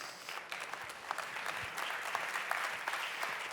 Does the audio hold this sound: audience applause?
yes